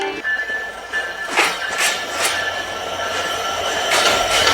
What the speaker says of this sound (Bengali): এটি হচ্ছে খুলনা থেকে ছেড়ে আসা রাজশাহীগামী আন্তনগর কপোতাক্ষ এক্সপ্রেস